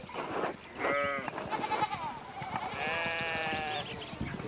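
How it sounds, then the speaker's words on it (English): Sheep in the game Pentiment bleat repeatedly in short, wavering calls, several overlapping, fairly close, with no speech over them. "we need to get these sheep under control"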